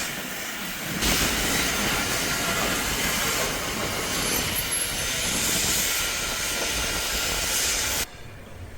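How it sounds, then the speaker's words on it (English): An express train from Oslo to Bergen rushes past close by with a continuous roaring rumble and hiss of wheels on rails, lasting several seconds before cutting off abruptly. "The express train from Oslo to Bergen passes by."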